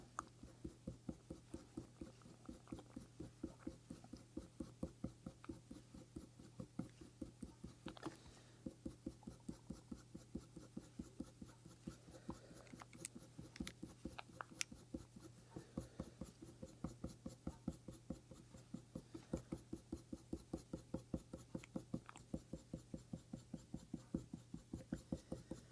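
Colour pencil strokes rubbing steadily on paper while a reindeer's leg is shaded and blended, a soft, close, rhythmic scratching that repeats for the whole stretch with no voice.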